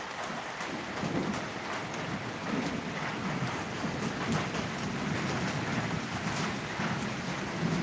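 Steady heavy rain pours down in Wai taluka, Satara district, near the Balumama temple, with a torrent of water rushing and a broad continuous roar filling the scene, no voices.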